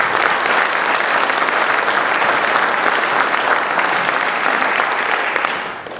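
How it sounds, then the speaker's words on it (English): An audience at a high school Hall of Fame induction ceremony applauds loudly and continuously, a dense wash of clapping that fades out at the end. "Please give a round of applause to all of the above."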